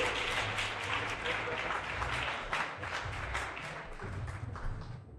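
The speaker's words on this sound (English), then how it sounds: "a nice round of applause for Dave" A gala crowd applauds a man named Dave after a closing prayer, dense steady clapping filling the room at moderate loudness, with some background chatter and a few thumps, tapering slightly toward the end.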